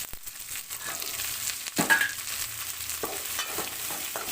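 Black pepper, cumin and fennel seeds go into a pan of softened onions and are stirred, giving a soft steady sizzle broken by a few scraping clicks of the spoon.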